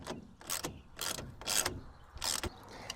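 Ratcheting clicks from bolts being retightened on the header of a Truxedo Deuce tonneau cover on a pickup, about five loud bursts of metallic ratchet clatter in an uneven rhythm, up close with no talk.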